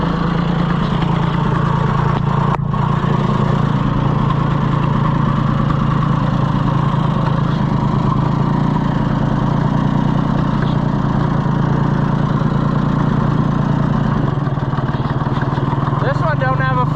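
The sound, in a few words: John Deere 1020 tractor engine idling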